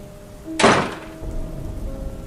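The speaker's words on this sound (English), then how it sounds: "He got no response as the kennel door was shut in his face." A kennel door shuts with a single sharp bang, fairly close and loud, fading quickly into a low background hum.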